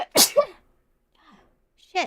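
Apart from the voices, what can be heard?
sneeze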